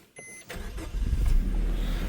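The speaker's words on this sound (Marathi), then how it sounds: "केली गाडी चालू" A car engine cranks and catches after a short electronic chime and click, then settles into a low, steady idle close by.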